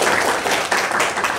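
Loud, close burst of audience clapping at an Islamic religious lecture, a brief dense patter of hands lasting only a moment.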